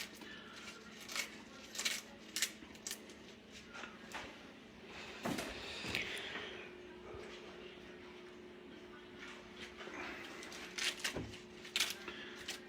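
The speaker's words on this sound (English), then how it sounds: "just go ahead and tear it up into bite size" Crisp, crunchy ripping bursts of lettuce being torn by hand into bite-size pieces for a curry shrimp chopped salad, close up and uneven, with kitchen room tone between tears.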